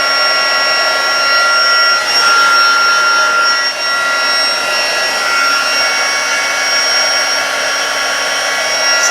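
An embossing heat tool blasts hot air at embossing powder to melt it, a loud steady blowing whoosh with a constant high whine that runs unbroken and close throughout, with no talking over it.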